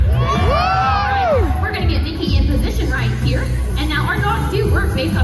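A crowd at the stunt dog show at Silver Dollar City cheers loudly, with children shouting and high whoops rising above the steady roar of the audience.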